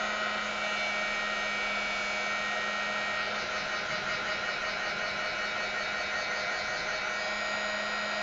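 A heat drying tool blows steadily over a mixed media journal page, a constant close whirring hum with airy hiss and no talking.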